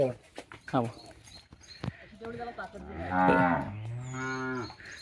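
Cattle mooing on a farm, a bull and a small calf calling in long, harmonic lowing bellows, the loudest near the middle and end, with a voice talking between the calls.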